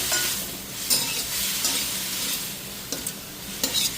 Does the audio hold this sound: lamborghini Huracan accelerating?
no